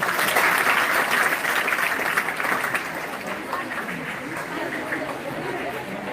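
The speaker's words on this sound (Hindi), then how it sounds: "हाँ, बहुत बढ़िया, ताली बजाओ इसके लिए पहले।" Children in a classroom clap together in a dense, loud burst that thins and fades over several seconds, with some chatter mixed in.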